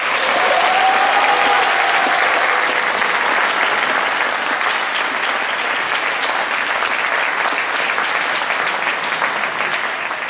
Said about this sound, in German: Ich finde, sie haben sich dafür einen sehr großen Applaus verdient